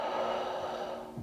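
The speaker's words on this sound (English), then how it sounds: "Exhale." One deep, steady exhale of breath, close and airy, sustained for just over a second while bending forward in a hips and shoulders stretch at home.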